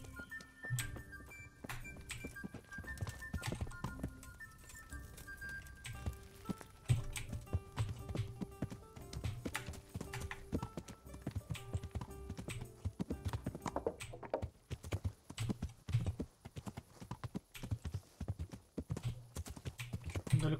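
Horse hooves clip-clop steadily on the ground in the medieval video game Kingdom Come: Deliverance, a continuous rhythmic trot with some game background sound.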